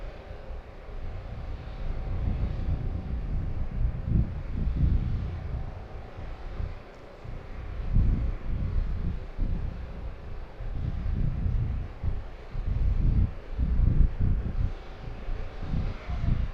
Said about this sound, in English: This should be a nice loud takeoff.